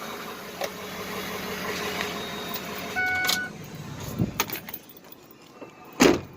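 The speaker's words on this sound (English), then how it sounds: "she runs good when it just sits and idles" A Yard Machines riding tractor engine idles at a low, steady putter throughout, with scattered metallic clunks and handling noises over it and a sharper knock near the end.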